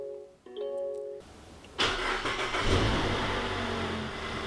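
A Mazda CX-30 engine starting in a garage during a rear brake job: soft chimes and beeps first, then a sharp crank and catch into a loud flare that settles into a steady idle.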